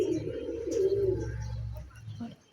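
Pigeons coo in low, throaty rolling notes, close and fairly quiet, continuing steadily through the short stretch with a faint chirp or two from the birds near the end.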